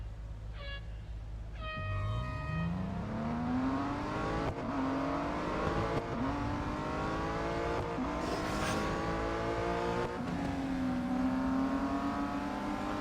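Engine of a fully upgraded Morgan Plus 6 race car in the mobile racing game Real Racing 3, revving hard and climbing through repeated gear changes, loud and continuous with a few short beeps at the start.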